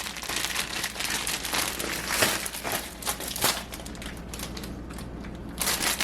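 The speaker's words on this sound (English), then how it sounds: "So now I'm going to add one of these little parchment papers to the COSORI air fryer here." Unbleached parchment paper liner for a COSORI air fryer being crinkled and pressed into the basket, a close, steady crackling and rustling with a few sharper crunches, no talking.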